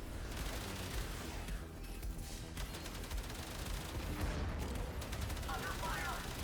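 Continuous space-combat gunfire and booms in Warframe Railjack, a dense, unbroken barrage at moderate volume with a voice speaking over it at times.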